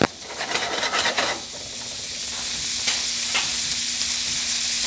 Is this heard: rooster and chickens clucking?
no